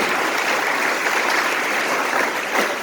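A theatre audience at a school drama competition claps steadily and loudly, a dense, even wash of many hands close by that holds for the whole stretch with no voices over it.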